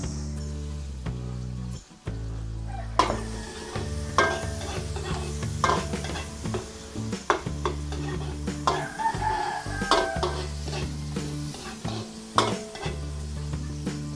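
Garlic and onion sauté in a pan with a steady sizzle while a utensil scrapes and taps irregularly, and a rooster crows faintly in the background.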